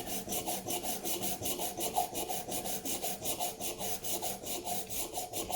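A Work Sharp rolling knife sharpener grinds a carbon steel blade with quick, even back-and-forth rasping strokes, a steady scratchy rhythm at low volume and close by, alone.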